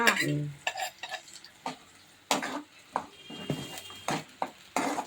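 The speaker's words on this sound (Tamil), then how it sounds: "தாளிச்சாச்சு பாருங்க." Tempering for a spicy green chutney served with dosa crackles and sizzles in a pan, with sharp intermittent spatters and stirring clinks at close range.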